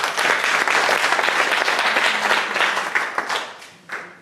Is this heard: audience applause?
yes